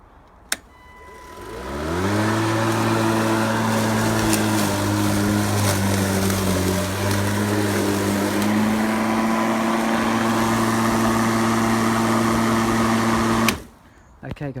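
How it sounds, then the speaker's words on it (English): A Greenworks 40V battery-powered lawnmower spins up with a click, then hums loudly and steadily while cutting through long wet grass, its motor tone dipping slightly under load before shutting off abruptly near the end. "I'm just going to show you cutting through it with the lawnmower"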